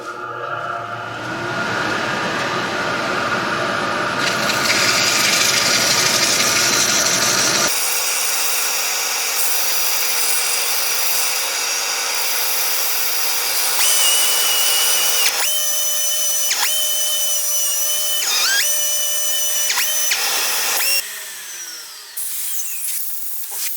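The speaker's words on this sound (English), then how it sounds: "let's see if we can't do some sanding" Power sander working the surface of a cast epoxy Christmas tree made from leftover resin, a loud continuous grinding whir that shifts in pitch and texture as the pads move, with no talk over it.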